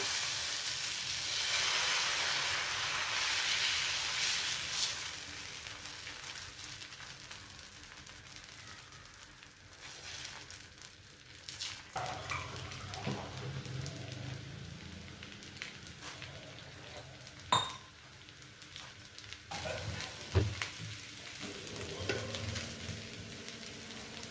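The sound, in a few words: tomato dosa batter sizzling on a hot griddle pan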